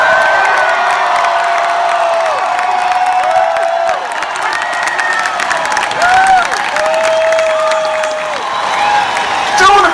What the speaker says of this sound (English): Applaud for that